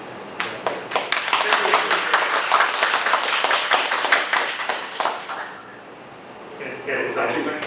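Audience clapping after a conference talk on FreeBSD networking, a steady round of hands applauding for about five seconds, then trailing off as a voice begins speaking.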